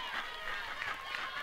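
Spectators at a 5A softball state championship game at Benton, the host school, make a continuous, fairly close murmur of crowd chatter with no single voice standing out.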